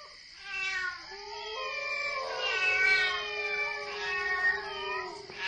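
Cats meow and wail in an eerie, drawn-out chorus as a radio-drama sound effect, with overlapping plaintive cries rising and falling continuously and no voices.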